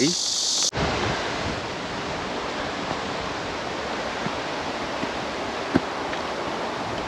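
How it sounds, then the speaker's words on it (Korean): Strong wind roars across a mountain hiking trail, buffeting the microphone in a steady, loud broadband rush that continues without a break. "오늘 바람이 많이 붑니다"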